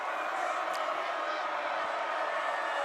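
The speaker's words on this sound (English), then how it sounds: "you can still hear the crowd noise pouring in" Crowd noise from the stands at a high school football Super Bowl game, Xaverian Brothers versus Needham, a steady broad roar with faint whoops, kept at a constant level and heard at a distance.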